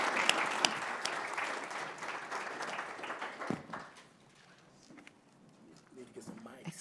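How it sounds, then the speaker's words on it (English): An audience applauds a panel at a Federal Reserve listening event in the Permian Basin, a dense burst of clapping that fades after about three and a half seconds into quieter room noise with a few scattered voices. "Let's give this panel a round of applause."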